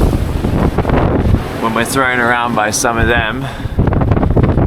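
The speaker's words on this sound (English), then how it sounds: "There's another gust in the low 30s" A strong gust roars over a sailboat crossing the Atlantic, reefed on both the genoa and the main. Loud, rushing wind buffets the microphone before and after someone speaks briefly.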